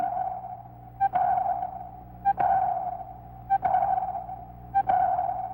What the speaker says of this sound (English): Sonar, ASDIC as the British call it, sends a sound wave into the depths, searching for a return echo from the enemy.